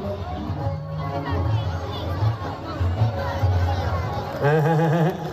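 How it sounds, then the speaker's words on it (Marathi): A large crowd at the Khandesh festival fills the air with a dense babble of voices, children calling out and shouting mixed in, with one voice rising clearly near the end. "महोत्सवाला नागरिकांची मोठी गर्दी पाहायला मिळते।"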